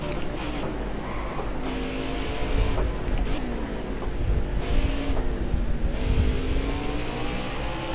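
NASCAR race cars lapping the track at Mid-Ohio, a dense continuous engine roar with rising and falling revs as several cars pass, loud and steady throughout.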